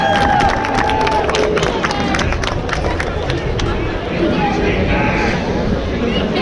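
A crowd claps and cheers at the Alameda County Fair hot dog eating contest, a dense, continuous burst of applause and hubbub with sharp individual claps near the front.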